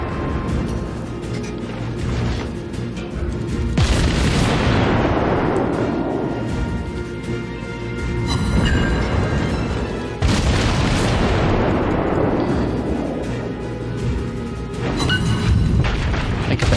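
Naval guns firing in the World of Warships game, ship Murmansk: two huge booming salvos with long rumbling decays, the first near 4 seconds and the second near 10 seconds, over a steady background din.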